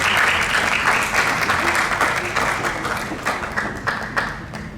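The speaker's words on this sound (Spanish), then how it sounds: "Démosles un fuerte aplauso a nuestra querida expositora" Loud, sustained applause from an audience at a dermatology congress, steady clapping throughout that slowly thins toward the end.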